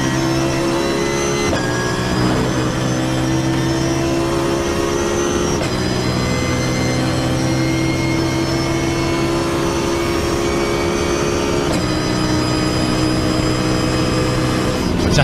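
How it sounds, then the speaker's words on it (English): A BMW GT3 race car roars at full throttle during the 24 Hours of Spa, a loud, steady, high-pitched engine howl with shifting harmonic tones held across the whole stretch. "Fantastic noise that BMW makes."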